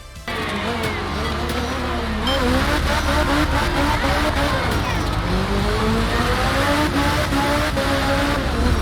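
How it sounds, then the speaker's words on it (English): A rally car in the video game Art of Rally revs hard and drifts, a loud continuous engine roar with shifting pitch and tire scrub, mixed under a narrating voice. "Hearing the engine rev up when you're about to take off from the start line or when you're hitting a sick drift"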